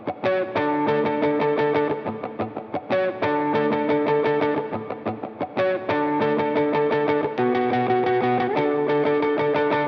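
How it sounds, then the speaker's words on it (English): Clean electric guitar strums a chord progression in a new wave post-punk style, processed through an amp-simulation plugin. Rhythmic, steady chord strokes ring with effects and slight distortion and fill the whole passage at an even level. "the very final pattern that we have for our guitars is going to be a strumming kind of chord progression"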